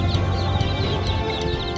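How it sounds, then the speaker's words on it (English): Busy chirping and clucking of poultry at an open-air market in Amman, Jordan, high chick peeps layered over a dense, continuous background of many birds close by. "We find little chickies chirping away"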